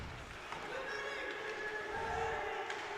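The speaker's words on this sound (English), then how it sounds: "Crowd yelling for too many men." Hockey crowd at a Boise State versus Northern Colorado game yelling for a too-many-men penalty, a steady dense wash of arena noise with raised voices throughout, loud and continuous.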